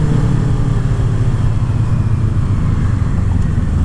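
A 2019 Kawasaki Z650 twin-cylinder motorcycle cruising through the city in fifth gear at about 40 mph gives a steady, loud, low engine drone, blended with constant wind rush for the whole stretch, with no voices over it.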